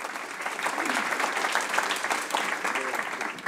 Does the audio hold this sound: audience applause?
yes